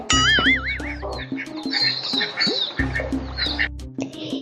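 Ducks out in the monsoon rain give several loud, close quacks and squawks in uneven bursts, with some overlapping calls.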